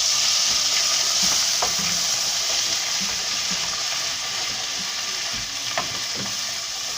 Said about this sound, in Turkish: şimdi tereyağımızın içine salçamızı koyuyoruz